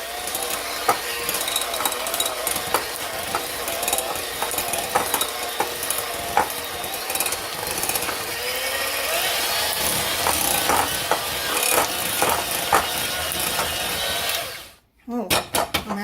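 Electric mixer whirring steadily through Coca Cola cake batter, a continuous loud buzzing hum with rattling clicks, running for a long stretch before cutting off briefly near the end and starting again.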